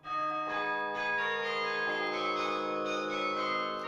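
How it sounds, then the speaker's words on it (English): A grand carillon of 60 tuned bells rings out in sustained, overlapping tones, with fresh strikes layering over the lingering hum at a steady pace and no voices. "We have a carillon, a grand carillon of 60 bells."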